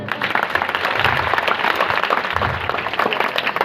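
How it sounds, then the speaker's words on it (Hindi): Sustained audience applause fills a felicitation ceremony hall, dense steady clapping from a large crowd continuing at an even level throughout. "ताली बजाइए।"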